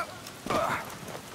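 Rain falling in the horror game The Evil Within, a continuous hiss of drops on surfaces with a brief louder swell midway.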